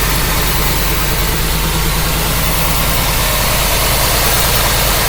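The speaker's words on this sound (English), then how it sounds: "throttle body fuel injected engine" A 305 throttle body fuel-injected V8 with about 120,000 miles, idling in a 1954 rat rod: a loud, steady, close engine rumble with even low pulsing and a hissy wash throughout.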